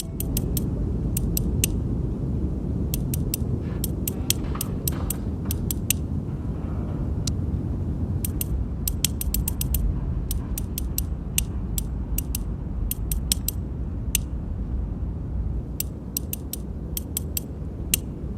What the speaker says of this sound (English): take note of how the sound of the code number in this safe box in the video is different from the other numbers that aren't the code